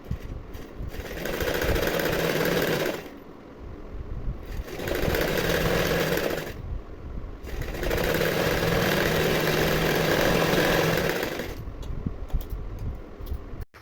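A sewing machine stitching the lining of a blouse, running in three long bursts of rapid mechanical chatter separated by short pauses, close and loud.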